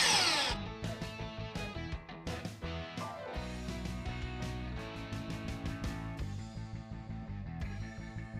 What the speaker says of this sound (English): I'm cutting the miters for the frame and getting ready to drop the chessboard in.